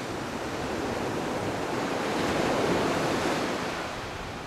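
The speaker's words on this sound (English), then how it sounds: "Breathing in the sound of the waves." Ocean surf washing against a beach, a steady broad hiss of breaking waves that swells gently toward the middle and eases off, heard alone without voices.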